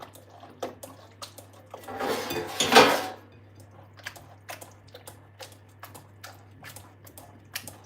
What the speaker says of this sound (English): So we can add that to the mixing butter and all of that. So just stir them together.